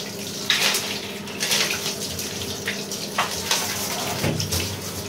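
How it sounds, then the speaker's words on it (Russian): Cold water runs steadily from a tap through a filter, with larger debris removed. The flow is loud and continuous, with small splashing surges and no speech. "а вода вон нормально проходит"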